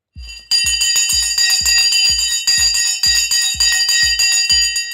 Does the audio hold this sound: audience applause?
no